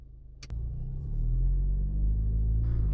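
A tuned Stage 2 Alfa Romeo Giulia 2.0T is driven in normal mode. Its engine drone swells steadily after a brief click and then holds a loud, even rumble from inside the cabin.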